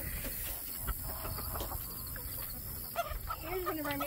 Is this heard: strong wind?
no